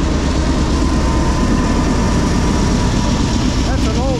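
An old single Norfolk Southern freight locomotive pulling autorack cars rumbles past. Its engine makes a loud, steady, heavy drone with no break.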